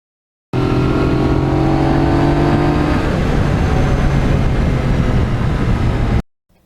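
A 2020 Yamaha MT-09 motorcycle engine runs loud and close for about six seconds, a steady, full-throated drone whose pitch shifts partway through before cutting off abruptly.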